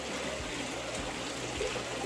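Water runs steadily through a gold-panning sluice after a bucket of material has been rinsed out, a continuous rushing, trickling wash with no pauses, fairly faint and close.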